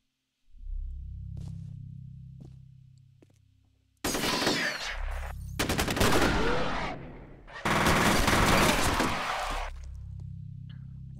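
Bursts of automatic gunfire in the shooter game F.E.A.R. come as loud, dense rattling volleys separated by a low droning hum and brief quiet.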